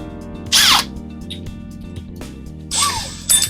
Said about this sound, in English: That's a 2 1/8 inch hole saw.